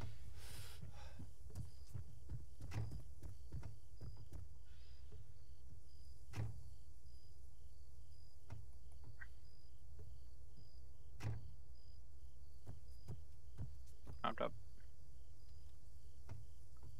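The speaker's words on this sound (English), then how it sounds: "I'm hearing my heartbeat" Low, steady pulsing thuds of an in-game heartbeat effect in Arma 3, a military shooter, repeating through the clip beneath a dull background rumble with occasional sharp clicks and thumps.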